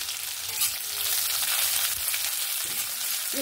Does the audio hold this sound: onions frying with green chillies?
yes